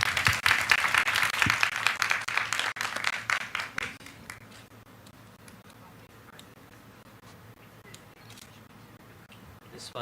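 Audience applause for a master of ceremonies at an international business panel, loud crisp clapping for about four seconds that thins out and fades, leaving quiet room tone.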